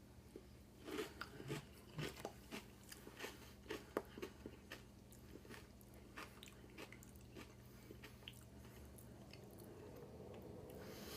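Close, wet chewing of YoCrunch yogurt mixed with Froot Loops cereal, with soft squishy bites and light crunches repeating steadily over a low, quiet hum, no talking.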